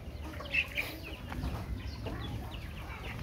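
Chickens clucking softly at a moderate distance, with a couple of brief higher calls early on, over a low outdoor rumble.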